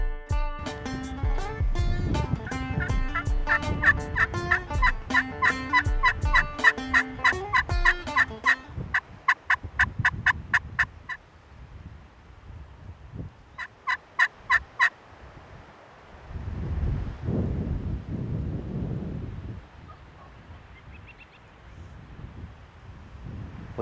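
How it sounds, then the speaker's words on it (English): Wild turkey gobblers gobble repeatedly, their loud rattling calls coming in quick overlapping bursts, then trailing off into wind noise with a few more distant gobbles later. "the subordinate gobbler kind of started coming our way, and that old strutter, he wasn't gonna have it"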